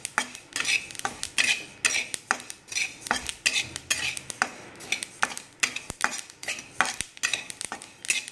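White sesame seeds dry roasting in a pan, with a spatula repeatedly scraping and clinking against the metal in a brisk, uneven rhythm, fairly close and alone without speech.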